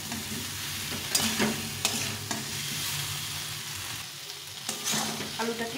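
Potatoes sautéing with tomato and spices in a pan: a busy, close sizzle and bubbling with frequent scraping and clinking of a spatula against the pan, steady throughout with no speech.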